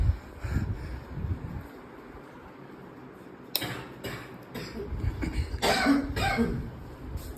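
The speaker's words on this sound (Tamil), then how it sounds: "அது ஒரு இருமல் கேஸ், அப்படிதான்" A person coughs a few times indoors at a birthday gathering, short bursts spaced across the moment amid faint background rustling and room noise.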